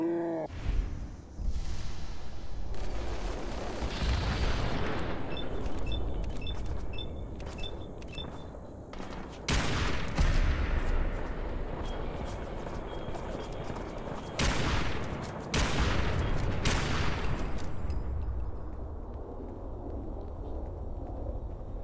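Repeated gunfire bursts and single shots from a Fallout 4 firefight, loud and continuous, with sharp blasts standing out around the middle and later portions.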